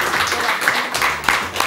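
Studio audience applause on a Spanish variety TV show, a dense, steady wash of clapping with a few sharper claps standing out, fairly loud and close, under faint background talk.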